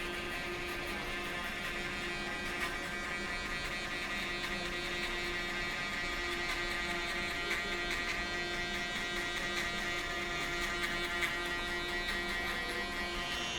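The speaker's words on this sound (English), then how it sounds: "we'll jump over to the shaver and just knock down the stubble here at the bottom" An electric shaver knocks down stubble at the neckline during a drop fade pompadour haircut, giving a steady close buzzing hum that runs without a break.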